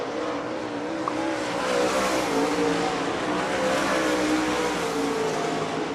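Late model race cars roar around BAPS Motor Speedway during Appalachian Mountain Late Model Speedweek, a steady dense wash of engines from a pack of cars passing at mid distance with a faint tire squeal.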